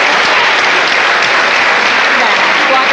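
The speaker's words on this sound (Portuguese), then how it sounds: "Desce uma salva de palmas para o nosso colega." A lecture audience claps steadily throughout a public science talk on the chemistry of a candle, producing a dense, even, fairly loud roar of hands with no pauses or voices standing out.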